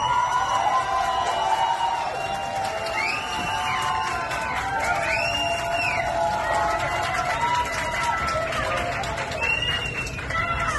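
Loud, continuous crowd cheering with applause and excited shouts and whistles rises for contestant Tronic in a singing reality show audience, sustained for the whole stretch without a break.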